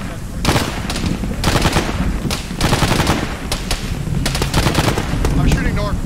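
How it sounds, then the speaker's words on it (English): Rapid bursts of automatic gunfire in a shooter video game, sustained and loud across the whole stretch with short gaps between volleys, mixed with other game noise. "I'm shooting north"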